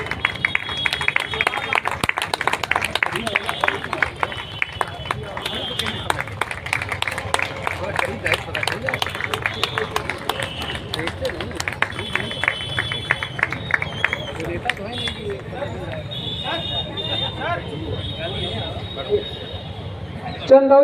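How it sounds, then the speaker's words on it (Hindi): Scattered, uneven clapping from a seminar audience gathered for a Constitution Day event, mixed with crowd murmur and background chatter, louder at first and thinning toward the end. "चंदौली के जोरदार ताली का स्वागत"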